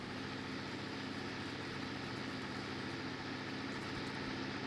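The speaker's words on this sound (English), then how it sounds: "so this is our new Ursus tractor," A tractor engine from the Ursus brand idles steadily in the Farming Simulator 2019 video game, giving an even, continuous low rumble with a faint tonal hum and no speech over it.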